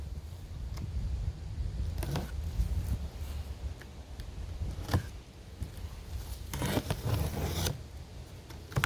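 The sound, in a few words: pressure washer box being ripped open for unboxing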